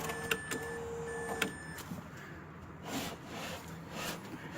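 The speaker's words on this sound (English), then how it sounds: "what you want to do is go ahead and lower this window a bit" A power window motor in a 2003 Mazda Protege door, run with the trim off during regulator replacement, gives a faint whirring hum as the glass lowers, broken by a few sharp clicks and clunks.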